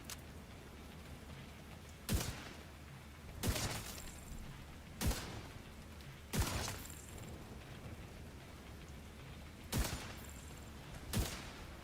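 Spaced single gunshots in a sci-fi PVE shooter, about seven sharp reports separated by pauses of a second or more, moderately loud against quiet ambience with no talk.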